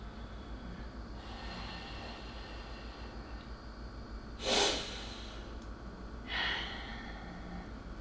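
Two audible exhalations during a yoga pose, forceful breaths through the nose standing out briefly over a quiet background hum.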